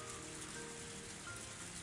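Heavy rain in the video game Higurashi When They Cry hisses as a quiet, unbroken wash of downpour with no voices over it.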